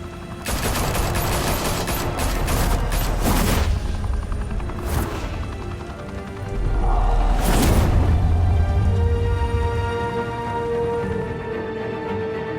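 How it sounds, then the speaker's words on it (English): Heavy gunfire in a Batman video game breaks out as volleys of shots and booms with a deep rumble underneath, louder bursts around the middle before fading into a lingering tonal hum. "Open fire!"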